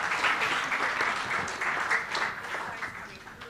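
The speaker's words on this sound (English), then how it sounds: "One more round of applause for Dr. Inez and her panel." Audience applause for a panel at the opening ceremony of a Commonwealth people's forum, steady and moderately distant, with faint voices under the clapping.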